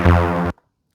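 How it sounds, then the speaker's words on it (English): A bass line sequence played on an Akai MPC Live: one loud, deep, sustained synth bass note holds for about half a second, then cuts off abruptly into silence. "everything's muted except the bass line"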